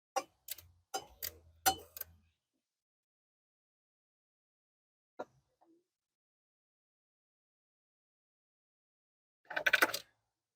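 A 1/4-inch ratchet fitted with an 8mm socket clicks in several quick bursts while working on a Chevrolet HHR throttle body. Long silent gaps and a few isolated ticks separate the bursts, and a final louder flurry of clicks comes near the end.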